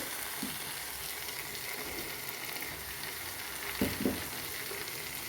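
Potatoes and cut tomato frying in a pan, a low, soft sizzle throughout. A couple of faint stirring knocks come near the end, with no voices.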